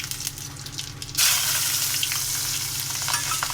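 Whole five-spice seeds and a bay leaf hit hot oil in a pan already used to fry fish, a sudden loud burst of sizzling after a quieter first second, then sustained crackling.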